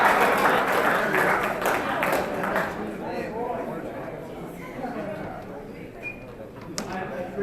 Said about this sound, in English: I appreciate the big applause from my guys, of course.